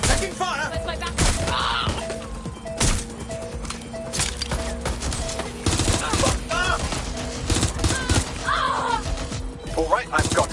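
Rapid bursts of gunfire crack and rattle through a firefight in Watch Dogs: Legion, dense repeated shots with impacts over about ten seconds, with a character's voice shouting in between.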